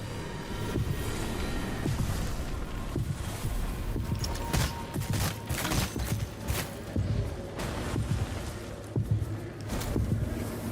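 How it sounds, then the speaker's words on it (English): Repeated booming blasts from the 2023 game Lords of the Fallen, with loud broadband bursts stacking over a dense, rumbling battle din throughout. "More bloody explosions!"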